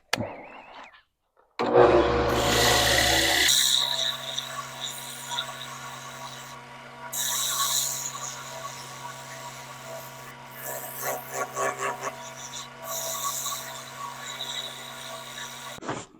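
A lathe motor hums steadily while 80 grit sandpaper is pressed against a black walnut wooden spatula. Harsh rasping bursts of sanding come and go over the hum, which stops briefly near the start.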